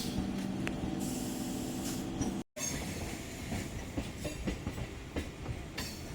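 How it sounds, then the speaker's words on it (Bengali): A local train rolls into Tikiyapara railway station, with loud rhythmic clickety-clack of wheels over rail joints and occasional high wheel squeal. The roar breaks off briefly midway, then resumes with sharp clanks and rattling of the carriages. "আমাদের ট্রেন এখন ঢুকছে টিকিয়াপাড়া রেলওয়ে স্টেশনে"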